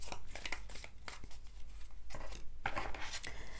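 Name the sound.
shuffling a deck of tarot cards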